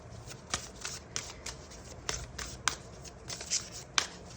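Tarot cards are shuffled and drawn by hand, a run of soft riffling flicks and crisp snaps in an uneven rhythm, close and fairly quiet.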